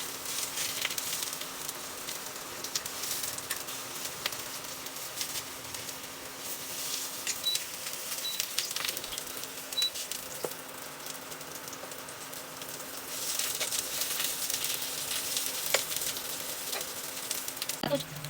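Sliced eggplant for tortang talong sizzles and crackles steadily in hot cooking oil in a pan, a close, continuous frying hiss that rises slightly toward the end.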